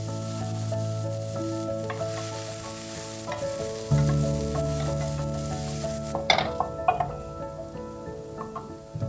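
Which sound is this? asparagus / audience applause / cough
asparagus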